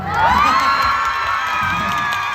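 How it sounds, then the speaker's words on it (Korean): At a K-pop concert, an arena crowd cheers and screams with high-pitched shrill voices, loud and sustained, a dense wall of shrieking fans that swells near the start and stays heavy throughout. "너무 우리한테 한번 박수 쳐주세요."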